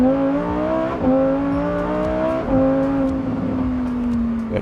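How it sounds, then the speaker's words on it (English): Lamborghini Huracan STO engine blipping through a series of downshifts, each gear change marked by a sharp revving surge and falling howl, repeated roughly every second, loud and close with no talking over it. "oh, the downshifts."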